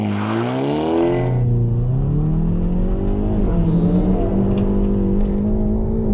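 A Hyundai i30 N with a dual-clutch transmission accelerates hard from 0 to 100 km/h. The engine note climbs loud and close, then drops briefly at a quick gearshift before rising again.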